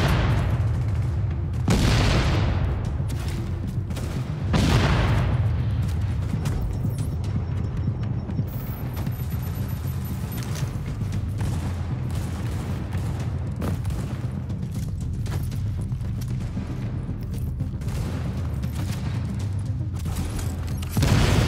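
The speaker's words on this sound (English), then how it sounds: "Grenades." Grenade blasts and gunfire in a firefight in the video game The Division, with several heavy booms, the loudest early on, over a dense, continuous rumble of shots and battle noise.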